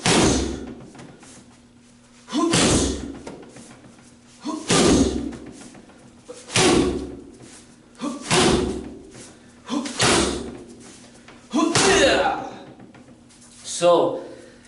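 An umbrella strikes a BOB training dummy in a kung fu self-defense demonstration: eight heavy, thudding impacts about two seconds apart, loud and close, with speech audible in the background.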